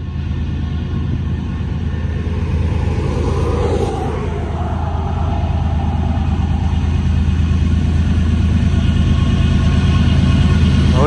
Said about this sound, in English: I like the sound of this engine.